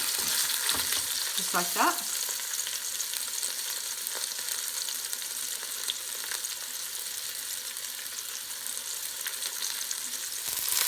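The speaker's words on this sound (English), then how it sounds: "Put the fish in here. And just fry them till they take a bit of color." Fish sizzling steadily in about four tablespoons of hot cooking oil in a pan, a continuous close frying hiss with a brief clatter near the start as pieces settle, and a short spoken remark over it.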